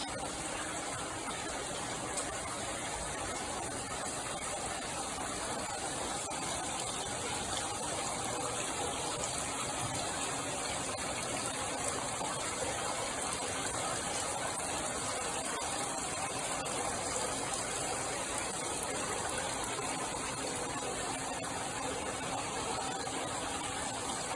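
Water leaking from a ceiling pours and trickles steadily into containers, a continuous dense splashing rush that stays even and fairly loud throughout with no voices.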